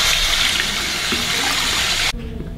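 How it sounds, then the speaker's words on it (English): Close, loud tap water gushes steadily over hands as they are washed, a continuous broadband rush that stops abruptly at the end, leaving a faint trickle. "wash your hands for 30 seconds"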